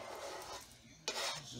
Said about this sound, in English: I'm gonna go ahead and slide in my sausage